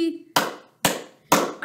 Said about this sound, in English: we're going to clap three times